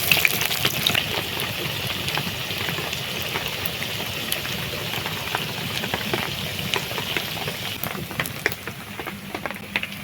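Pakoras deep-fry in hot oil, making a loud, dense, continuous bubbling hiss close by with scattered crackles and no voices.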